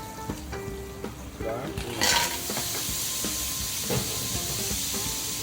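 Garlic frying in a pan for a sun-dried tomato and clam vongole, a steady sizzle and hiss with scraping stirs, swelling louder as it browns.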